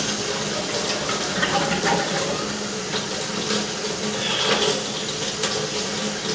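A toilet flushes, sending a steady rush of water through the drain pipe beneath a house's floor, heard close and continuous throughout.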